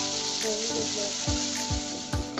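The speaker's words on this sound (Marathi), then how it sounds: "थोडंसं परतून घेऊ आपण" Asafoetida, green chilies, peanuts, coriander and cumin sautéing in two spoons of oil in a pan, a soft steady sizzle broken by a few low thumps and scrapes from the spoon.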